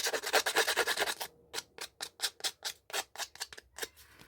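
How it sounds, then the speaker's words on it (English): Rapid rhythmic snipping and scraping of scissors distressing paper edges, a dense run of strokes followed by a dozen or so separate close, crisp cuts. "Get my scissors out."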